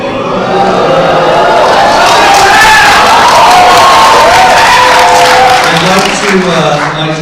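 A debate audience cheers and applauds loudly and continuously, a dense crowd roar with whoops and shouts rising and holding throughout.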